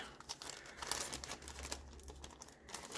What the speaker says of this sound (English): Yeah, you came from a plastic bag.